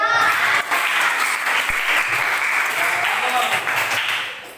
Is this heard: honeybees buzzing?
no